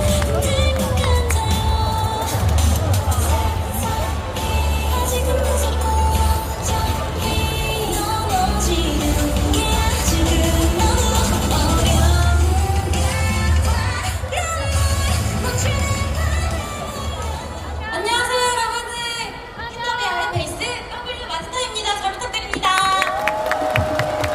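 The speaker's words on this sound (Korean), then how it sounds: "큰 박수로 맞아주시기 바랍니다" A big stadium crowd cheers and applauds loudly and steadily at a Samsung Lions baseball game at Daegu Samsung Lions Park, greeting the ceremonial first pitch, with shouts and whistles rising above the continuous roar.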